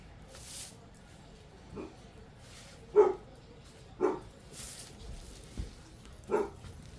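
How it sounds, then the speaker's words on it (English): A few sharp dog barks, spaced irregularly and moderately loud, over a quiet background. "It's Ace, he's barking."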